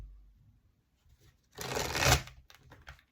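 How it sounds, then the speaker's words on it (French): Tarot cards being shuffled, a soft riffling burst that rises for about half a second and then fades, with faint handling sounds before and after in a quiet room. "on va quand même prendre une carte du tarot."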